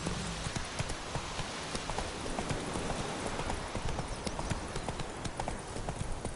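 Roach, a horse in a PS4 video game, trots along with steady, continuous hoof clip-clops close up, a rapid even rhythm over a dense bed of ambient noise that sounds rain-like.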